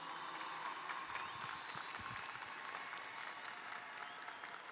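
Audience applause at the Lamar High School class of 2023 graduation ceremony, a dense, steady wash of many hands clapping in a large crowd, sustained at an even level for the whole stretch.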